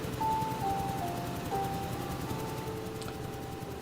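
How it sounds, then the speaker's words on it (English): A noisy wind machine in the game Superliminal gives off a steady mechanical drone with a few thin sustained tones drifting in pitch over a low rumble. It runs continuously at moderate level, without speech. "We've got some kind of wind machine over here,"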